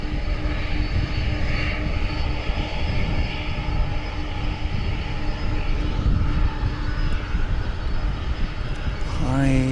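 An Alaska Airlines airliner passes at DFW Airport at night, its engines a steady, loud roar holding throughout, with a faint voice near the end.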